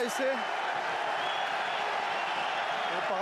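A rugby stadium crowd at a French Top 14 match between Bayonne and Perpignan reacts after a try is disallowed, a sustained murmur and cheer of many voices with some applause, under a commentator talking throughout.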